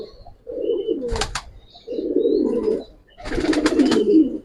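Giribaz pigeons in a loft give three bursts of deep, throaty cooing, close and fairly loud, with brief sharp flutters or clatters between the calls.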